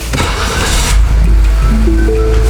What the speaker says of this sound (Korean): 시동 먼저 한번 걸어볼까요?